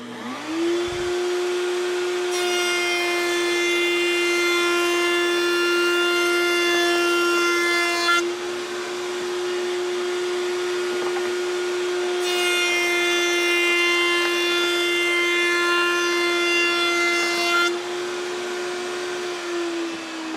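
A small hand-ground cutter runs a bead along a wooden rail for a Shaker peg rail, guided against a fence, giving a steady droning whine with brighter scraping passes that start and stop over about twenty seconds.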